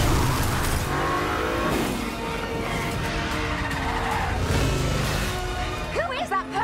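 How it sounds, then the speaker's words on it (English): A car skids and drifts through the cobblestone streets of Rome, driven one-handed by a handcuffed driver, with continuous engine roar and tire squeal throughout and voices talking over it. "driving and drifting one-handed through the streets of Rome"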